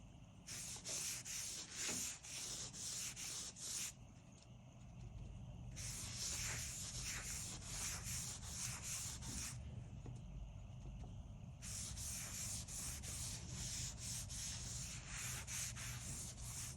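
A sponge soaked in oil is rubbed over a small piece of wood, giving close, raspy scrubbing strokes in bursts. Quieter pauses sit between the bursts over a low background hum.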